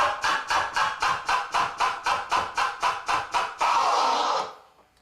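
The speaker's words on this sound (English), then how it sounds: "You're simultaneously moving the fader and the vinyl to create a cutting sound." A turntable scratch cut with the mixer fader while the vinyl is moved, giving about fourteen sharp, evenly spaced chopped bursts in a fast rhythm, followed by a longer unbroken scratch that fades away. Loud and close, with no talking.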